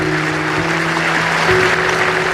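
Cricket crowd at a Test match applauding Graham Thorpe's first Test century, a dense steady wash of clapping and cheering filling the whole stretch, with a faint tonal hum underneath.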